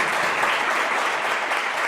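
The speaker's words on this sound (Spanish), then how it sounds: "Con un fuerte aplauso para mí" A lecture audience applauds steadily and loudly throughout, a dense sustained wash of clapping with no talk over it.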